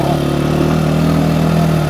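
Trailmaster TM 38E dirt bike engine running steadily at a low, idle-like pace, a continuous mid-pitched putter that stays loud and close throughout with no talking.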